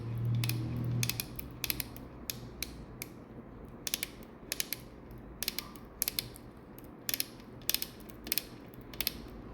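A dental implant torque ratchet turned clockwise gives off a steady series of crisp, quiet clicks with a soft creak, close by and with no talk.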